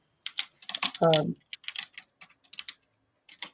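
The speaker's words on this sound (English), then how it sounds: "I'm sorry, I've got a loud keyboard." Rapid clicking of keys on a computer keyboard, close and crisp, in irregular bursts, with a brief voice cutting in near the start.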